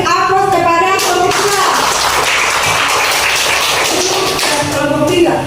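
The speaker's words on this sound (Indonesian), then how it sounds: "Berarti aplaus kepada kelompok" Classroom applause for a student presentation group, a burst of clapping from students with children's voices mixed in, fairly loud and close, continuing steadily across the moment.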